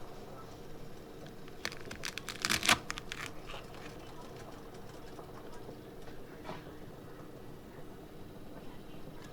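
A knife slices through organic collard greens on a cutting board, a quick burst of close, crisp chops clustered together, followed by quieter occasional cuts over low room noise.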